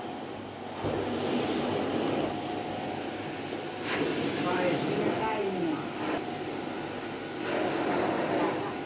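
A vacuum cleaner on its floor setting runs with a steady, broad whooshing roar, swelling slightly in places, while people talk over it.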